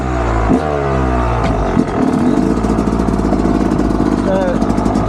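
A Yamaha YZ250X two-stroke hard enduro motorcycle with electric start idles and revs steadily up close, its buzzing engine note running continuously through the clip, with a voice talking over it.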